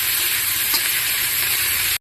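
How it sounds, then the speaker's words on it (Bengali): Onions, garlic and tomato fry in a pan with a steady, loud, continuous sizzle that holds evenly for about two seconds and then cuts off abruptly, with no voices. "এখন দিয়ে দেবো পেঁয়াজ। এখন ভালো করে লাল লাল করে একটু ভাজিয়ে নেব।"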